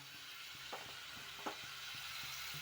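Chopped cabbage stalks roast and fry in a pan with a steady, soft sizzle throughout, broken by a couple of brief stirring scrapes; no one speaks.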